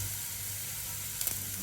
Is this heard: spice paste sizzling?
yes